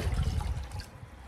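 A homemade weed killer liquid mixture is stirred in a container, giving a brief close-up sloshing and swirling of liquid that fades out within about a second.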